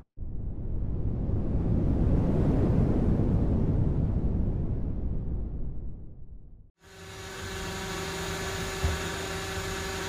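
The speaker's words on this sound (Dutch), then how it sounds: "Misschien horen jullie op de achtergrond ook wel, dat het heel erg waait." Strong wind roars in a broad, steady rush beside a truck on a drive toward Madrid in Spain, then cuts off abruptly to a quieter engine-like hum with tonal whine.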